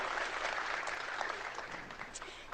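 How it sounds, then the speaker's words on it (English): Rally crowd in Hamilton roaring with sustained applause and cheering, a dense, steady wash of clapping that stays loud throughout with no voices on top. "Now listen to that applause."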